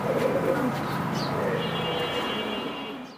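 Red-eyed racer pigeons cooing close by, soft repeated throaty coos with a few faint chirps over a steady background hum.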